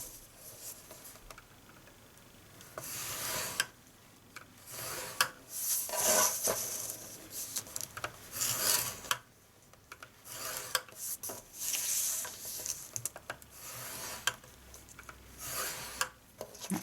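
Rasping, rubbing strokes of a scoring tool drawn along cardstock on a scoring board for a handmade gift box, repeated in irregular bursts at close range with short pauses between passes, no voices.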